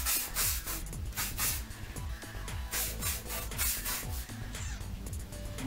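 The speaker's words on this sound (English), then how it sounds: "I'm just gonna hairspray that lightly" Invisible Hold hairspray misted lightly over freshly styled curls, a close, soft continuous hiss broken into short puffs, with rustling of hair and no voices.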